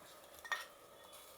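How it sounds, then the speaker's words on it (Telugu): Tempering (popu) of fried onions and spices tipped into pappu charu, a Telugu lentil soup, then stirred: a short soft sizzle and a brief splash, followed by quiet stirring and a faint utensil clink near the end. "ఇప్పుడు పోపు కూడా రెడీ అయిపోయింది. ఇందులో వేసేద్దాము."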